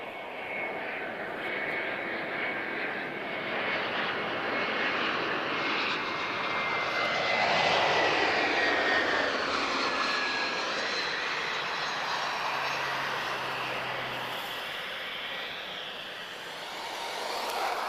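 Vueling Airbus A321 arriving at Lisbon from Paris, a jet roar swelling to a peak midway with a rising whine, then fading as the aircraft passes, with faint voices beneath.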